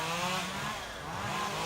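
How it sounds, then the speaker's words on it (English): Chainsaws cutting through downed trees, including 3- to 4-inch limbs, to clear a blocked road in Leilani Estates, a steady loud motor drone running throughout at close range. "the chainsaw guys are making short work out of this."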